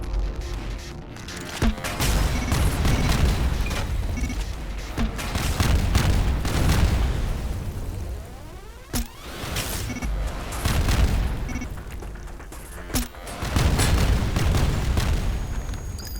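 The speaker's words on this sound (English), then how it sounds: "that was just a glancing shot from the cannon" Cannon shots and explosions in a video game: deep booms land a few seconds apart, with sharper blasts near two, nine and thirteen seconds over a constant rumbling battle backdrop.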